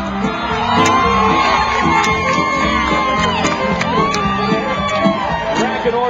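At a charity horse show, a crowd whoops, shouts and cheers during a speed racking class, with a lively roar of many voices and scattered yells throughout.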